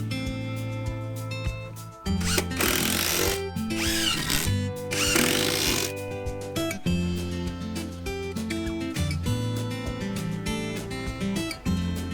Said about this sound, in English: Use a large drill to make a hole in the cutting of the side.